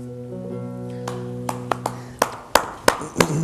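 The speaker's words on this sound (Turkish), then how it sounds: "Alkışlanmak da varmış." Scattered hand claps from an audience at a poetry reading begin after a sustained tone, starting sparse and growing into several sharp, irregular claps close by.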